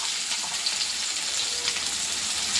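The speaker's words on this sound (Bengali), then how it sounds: "এভাবে একটু ভালো করে ভেজে নেব রসুনটা।" Garlic frying in a pan in a home kitchen, giving a steady, close sizzle and crackle that runs without a break and with no voices.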